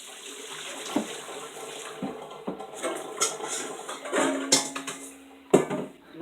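Water from a kitchen tap runs steadily while a potato is rinsed under the stream, with the wet wash broken by a few sharp clinks and splashes against the sink.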